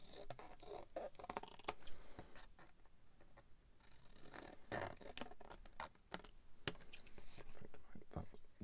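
Paper being cut with scissors for a pinwheel ephemera pouch, a run of close, crisp snipping strokes with small rustles and handling noises between them.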